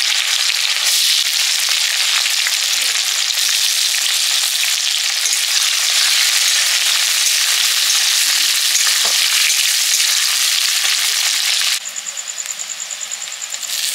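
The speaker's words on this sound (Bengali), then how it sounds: "ফোড়ন দিচ্ছি শুকনো লঙ্কা আর জিরে, পেঁয়াজ কুচি," Dry red chilli, cumin and chopped onion fry in hot oil with a loud, steady crackling sizzle that runs without a break and eases slightly toward the end, when a thin high whine rises. No one speaks.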